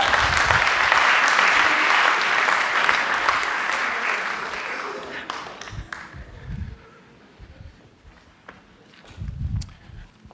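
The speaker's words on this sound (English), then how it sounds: "Now, give them a round of applause." Audience applause at a live performance in the Stedelijk Museum, loud and steady clapping for about five seconds that fades into scattered claps, shuffling and footsteps, then a short final burst of clapping.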